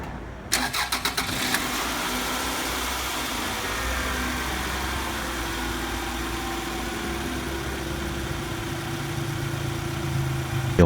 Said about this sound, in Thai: ฟังเสียงเครื่องก่อนซ่อมแล้วหลังซ่อมนะ